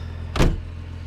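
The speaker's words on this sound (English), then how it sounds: "we have a perfect idle there, running nicely" A 1966 Jaguar 3.8S engine idles with a steady low hum, and a single brief thump or whoosh cuts across it partway through.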